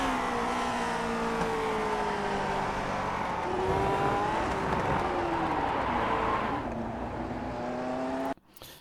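Lotus 49 race car engine in the iRacing sim at Suzuka, revving hard on throttle as the car slides sideways, a loud steady roar with rising and falling pitch that cuts off abruptly near the end.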